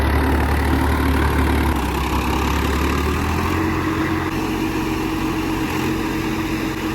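A tractor engine labours under load while pulling a rotavator across a level field, giving a loud, continuous low drone with a strong engine rumble that holds steady and close throughout.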